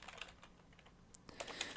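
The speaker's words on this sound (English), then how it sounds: "I'm typing the notes as we go so you can see this later." Notes are typed on a computer keyboard during a lecture: quiet, irregular clicks of keys in quick succession with a faint background hum.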